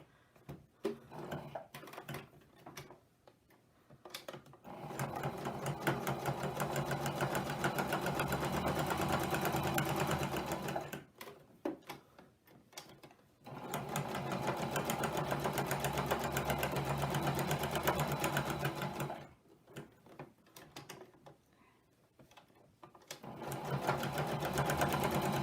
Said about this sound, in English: I'm going to start and back stitch, and I'm just going to go the whole way around